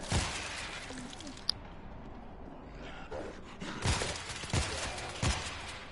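Gunfire in the World War Z video game, Moscow level: a few sharp shots spaced across a few seconds over a busy game background of noise.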